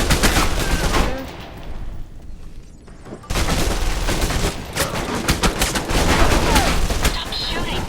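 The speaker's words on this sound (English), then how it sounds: "Stop shooting!" Rapid bursts of gunfire in the Alpha Protocol shooter, loud and dense, cutting out for a couple of seconds before resuming as heavy sustained shooting.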